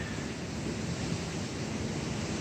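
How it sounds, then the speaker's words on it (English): Strong wind rushing steadily outdoors at about 25 mph with gusts to 40, a continuous broadband roar with no voices, buffeting the microphone throughout. "it is windy, windy, windy."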